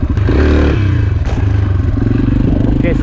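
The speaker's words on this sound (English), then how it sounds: "the engine is not revving like crazy" A dirt bike engine pulling during a wheelie, a low, moderately revving motor with a rough, pulsing tone and some clattering and scraping, close and loud for about three seconds.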